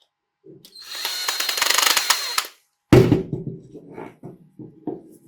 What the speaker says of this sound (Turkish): Bunları delikten geçirip vidalayacağız.